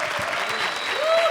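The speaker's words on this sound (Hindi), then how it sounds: "जोरदार तालियां।" Loud clapping from a comedy show studio audience, brief and dense, with music tones sustained underneath.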